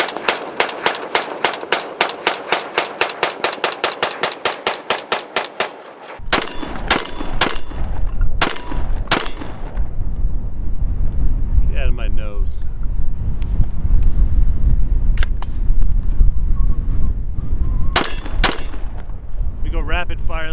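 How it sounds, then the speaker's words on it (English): A Springfield Armory Hellion rifle fires rapidly, a fast even string of sharp shots that ends in a few scattered, louder shots amid wind noise outdoors. "Let me do some rapid fire just to get a feel."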